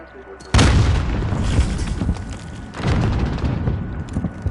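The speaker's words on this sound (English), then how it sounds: "Grenade out!" A grenade explodes in Call of Duty Modern Warfare with a sudden loud boom, followed by a rumbling tail and a second heavy burst, with combat voices in the background.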